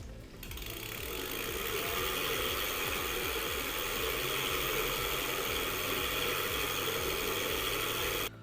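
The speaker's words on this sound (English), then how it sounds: "No matter how fast or slow you pedal, the motor will always spin extremely fast." Ebike motor spinning extremely fast, a loud, continuous whirring buzz with a rapid mechanical ratcheting texture, starting abruptly and holding steady until it cuts off.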